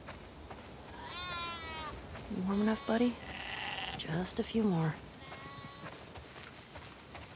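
Several sheep bleat in The Last of Us Part II, a string of quavering cries from a flock nearby, some loud and close, heard alongside a man's brief spoken lines.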